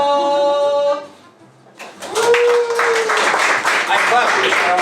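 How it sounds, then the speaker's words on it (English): Audience clapping for a bachelorette contestant called to the stage at a live dating-show event, a burst of applause rising after a brief pause and continuing under voices and cheers. "I clapped for you, Cheryl"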